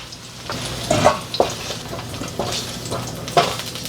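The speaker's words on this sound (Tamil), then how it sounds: "மீடியம் ஃப்ளேமில் வச்சு நல்லா கொஞ்சம் அப்படியே ஃப்ரை ஆகட்டும்" Slices of raw banana fry in oil in a pan over a medium flame, giving a soft continuous sizzle broken by occasional scrapes and stirring clinks of a utensil against the pan.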